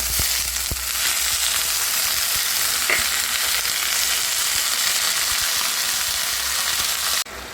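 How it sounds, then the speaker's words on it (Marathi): Onion frying in a pan for methi bhaji, a steady loud sizzle running throughout with a few faint stirring clicks, ending with a sudden drop in level near the end. "थोडा लाल व्हायला पाहिजे कांदा भाजला आपला"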